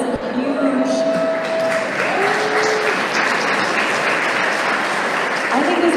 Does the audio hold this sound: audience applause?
yes